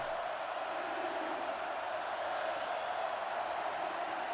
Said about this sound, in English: This Hellcats crowd getting into it, cheering on their defense